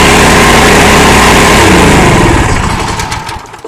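A small-engine pressure washer starts up and runs loud, steady and close, its rough motor drone filling the scene before easing off slightly at the end.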